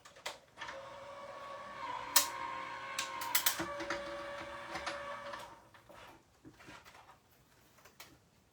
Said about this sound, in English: I'm just gonna run this through my machine real quick.